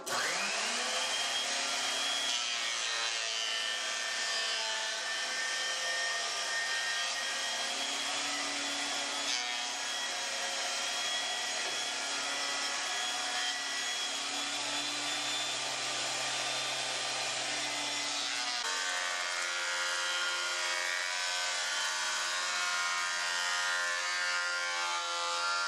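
A machine planes boards down to thickness in a woodshop, its loud, steady whining drone running without a break for the whole stretch, with a brief drop and change in pitch near the end.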